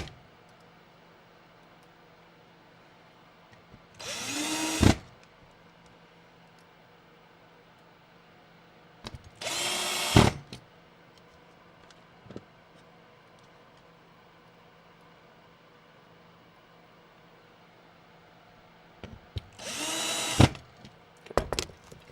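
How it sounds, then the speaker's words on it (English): Power screwdriver removing screws from vintage electronics during a repair, three separate whirring bursts of a few seconds each, spread out across a quiet room with long pauses between them. "you'd think I just like taking screws out and putting them back in."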